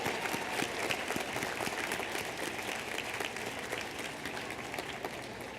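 Sustained applause from a commencement audience honoring veterans at a 2011 graduation ceremony, a dense, steady wash of many hands clapping for several seconds with crowd murmur underneath.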